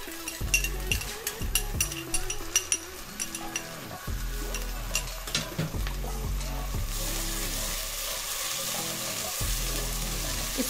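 Onion frying in a pan with ginger-garlic paste as a Palak Methi sabzi is cooked, a steady loud sizzle with rhythmic stirring scrapes and clinks of the spoon throughout, growing hissier toward the end.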